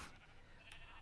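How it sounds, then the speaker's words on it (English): A sheep bleats in the Minecraft video game, one short, faint call heard once over a low, steady background. "Lots of sheep and..."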